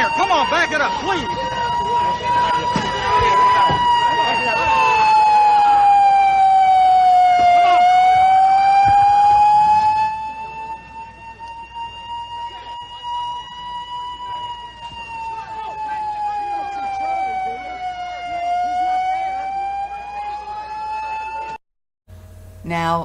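An ambulance siren wails close by in slow rising and falling sweeps. It starts loud, then fades slightly while people shout over it.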